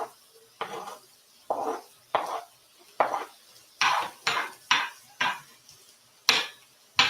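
Onion and bell pepper being stirred in a pan, with about a dozen evenly spaced bursts of scraping and sizzling as utensils move the food, close and fairly loud with no talking.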